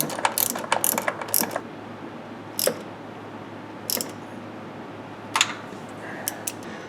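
A bolt snugged down by hand during a Sniper EFI fuel-injection conversion, with several bursts of quick ratchet clicks, a dense run at the start, then short isolated clicks spread across a quiet background.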